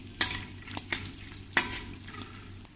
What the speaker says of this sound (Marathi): आणि हे शेंगदाणे पण आपल्याला याच्यात तळून घ्यायचे आहेत।